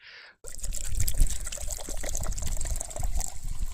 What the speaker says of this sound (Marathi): एक स्वच्छ कोरड्या प्लॅस्टिकच्या जारमध्ये आपण ते सगळं पाणी ओतून घेणार आहे